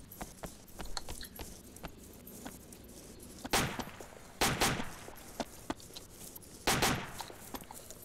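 Soldiers shooting in a military realism video game, heard as several bursts of distant gunfire spread out over a few seconds beneath a steady background.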